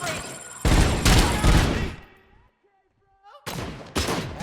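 Rapid gunfire bursts in the video game RoboCop Rogue City, loud clustered shots in two volleys separated by a short quiet gap with brief electronic tones.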